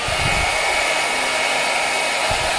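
An ITeracare Premium device running on its louder second setting gives a steady, close, loud blowing whoosh like a hair dryer, constant throughout with no talk.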